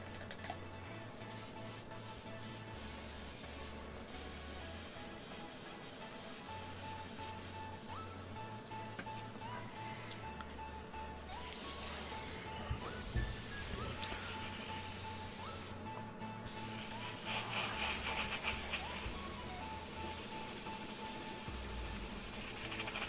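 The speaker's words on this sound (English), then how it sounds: "So that's just air blowing over it." Airbrush blowing plain air with no paint over a model X-Wing ship, a soft continuous hiss steady and close, with faint small bursts and clicks throughout.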